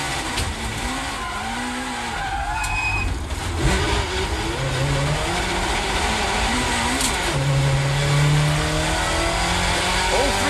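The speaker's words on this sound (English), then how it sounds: "David Brabham's in the ideal place to watch as the Alfa Romeo Peugeot battle continues" Alfa Romeo and Peugeot touring cars race in a 1990s championship, with engines roaring steadily, rising and falling in pitch as the cars pass, plus brief tyre squeals and a commentator talking over the noise.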